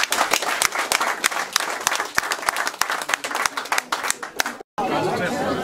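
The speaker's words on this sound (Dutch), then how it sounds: "een applaus voor de vrijwilligers van de buurtkamer" A small neighbourhood gathering at a community room applauds its volunteers, with dense, brisk clapping mixed with lively chatter that runs for several seconds before cutting out.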